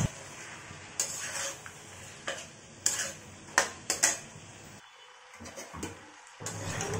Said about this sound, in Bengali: প্রথমে মশলাটা ভালো করে কষিয়ে নিই ক্যাপসিকাম আর পেঁয়াজ দিয়ে।